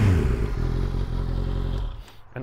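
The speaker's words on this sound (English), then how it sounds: "This is carbon fiber muffler, and it sounds pretty good. Let's just give you a little sample, shall we?" A Honda CB650R motorcycle fitted with a carbon fiber muffler, baffle installed, revs up close and loud, then drops away as the throttle closes.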